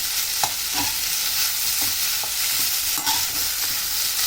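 Vegetables for a Maharashtrian fasting meal stirred in a pan, with a steady background sizzle and a few soft, irregular scraping strokes spread across the clip, close and fairly loud with no talking.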